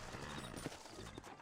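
Horse hooves clip-clop faintly in the Red Dead Redemption video game, a few soft steps under a dense, noisy background.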